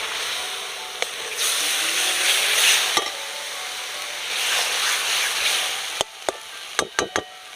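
Ground spice paste of cumin, dried chilli, ginger and tomato hitting a pan of onions, broad hissing sizzle swelling in two bursts, then a few sharp knocks of a spoon against the pan.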